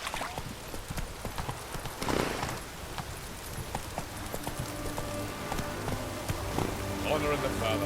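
Roach, the horse in The Witcher video game, gallops with a steady run of hoofbeats layered under ambient game sounds and a brief whinny, the rhythm continuing throughout with rain-like hiss in the background.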